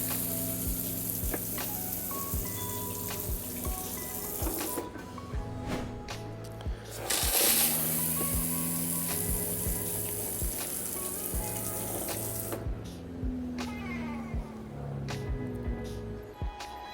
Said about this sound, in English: I'm going to flush the toilet and check for leaks